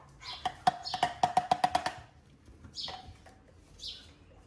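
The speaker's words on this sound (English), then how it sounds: "Look at the birds." Bird chirps sound outdoors around a group of pet monkeys: a quick run of about eight sharp, evenly spaced chirps early on, then a couple of softer, more distant calls over faint background noise.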